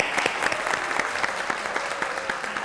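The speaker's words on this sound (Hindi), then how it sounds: "तालियां हो जाए।" Studio audience applause at a television talk show, a steady burst of many hands clapping at close range that holds at an even level through the whole stretch.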